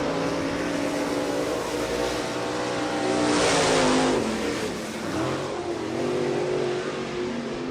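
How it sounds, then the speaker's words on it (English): A modified race car at County Line Raceway rolls out onto the track, its engine droning loud and steady, swelling briefly as it pulls away, then settling back to a constant roar. "Here comes the number 10. Ready to roll out there, the Commonwealth Bandit, Russell Irwin"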